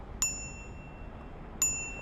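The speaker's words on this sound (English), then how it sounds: "It has a little bell." Two bright single dings from a small handlebar bell on a Jack Rabbit OG2 micro e-bike, struck about a second and a half apart, each ringing briefly before fading over a soft background hiss.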